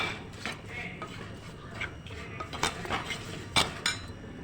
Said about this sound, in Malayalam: ഇത് കുറച്ച് സമയം നമുക്ക് ഇളക്കി കൊടുക്കാം